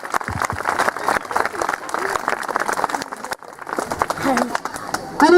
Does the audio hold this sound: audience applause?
yes